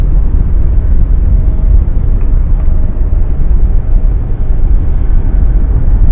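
A passenger airliner arrives at Raleigh-Durham International Airport from Fort Myers, its broad engine roar steady and loud throughout, mixed with strong wind buffeting the recording.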